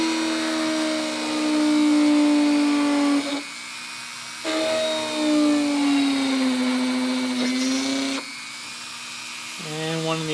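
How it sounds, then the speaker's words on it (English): A high-pitched power drill drilling holes through a rubber F1 tire whines in several bursts, revving up and winding down with short pauses between, close by. "So I'm going to drill those two holes."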